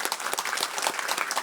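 A church congregation applauds steadily during a Sunday service, a dense patter of many hands clapping together, fairly close and sustained throughout.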